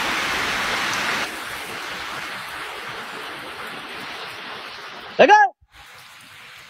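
Steady rain pours at night as a dense, hissing wash that eases slightly after the first second, broken briefly near the end by a single spoken word before the downpour continues.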